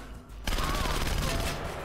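Dense gunfire in Splinter Cell: Conviction erupts suddenly after a brief lull, a continuous rapid barrage of shots filling the rest of the moment.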